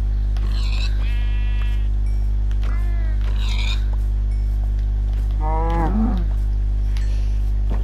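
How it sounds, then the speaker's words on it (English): Sheep bleating in the Minecraft video game, Bedrock Edition, a few wavering calls over a loud constant low hum, with no voices in between. "Some more sheep."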